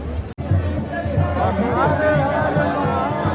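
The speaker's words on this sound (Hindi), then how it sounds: "और देखिए श्रद्धालुओं की भीड़" A dense crowd of pilgrims at the Badrinath temple produces a continuous murmur of many voices, close and fairly loud, with a voice talking over it and a brief dropout near the start.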